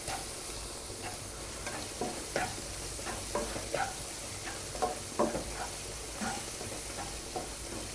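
Sliced onions frying in a pan for a cabbage and potato curry, a soft continuous sizzle broken by scattered stirring clicks and scrapes, close but fairly quiet, with no voices.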